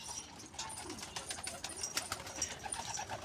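Pigeons in a coop, several birds cooing softly and intermittently over a busy, hissy background, the calls faint and somewhat distant.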